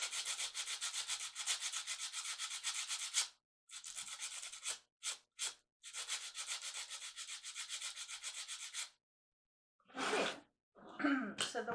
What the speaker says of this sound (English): take a piece of sandpaper and go ahead and sandpaper that area till you get it nice and smooth